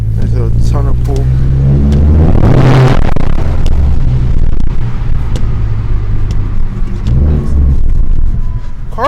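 A tuned Ford Focus ST engine roars loudly as it accelerates, with a deep rumbling note, a sharp burst near the start and a talking voice.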